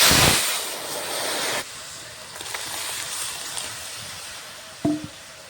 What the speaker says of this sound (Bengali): তেল গরম হয়ে গেছে, ফোড়নে দেব শুকনো লঙ্কা আর সর্ষে।